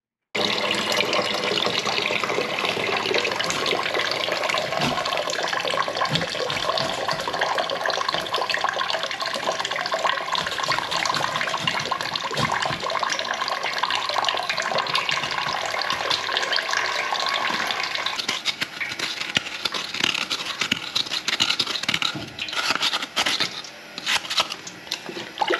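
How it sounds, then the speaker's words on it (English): A blocked urinal flushes and water gushes and gurgles steadily at close range, the rushing flow continuing for a long stretch before thinning into irregular trickles and knocks as it backs up through the blockage. "the urinal's just flushed on the right hand side and you can see that water coming back"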